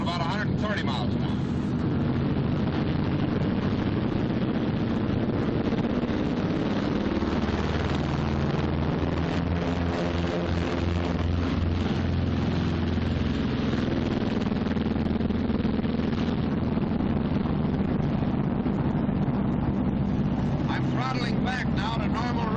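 Twin engines of a B-26 airplane roar loudly and steadily through takeoff, a dense continuous drone with a faint pitch shift near the end, while someone talks over the noise.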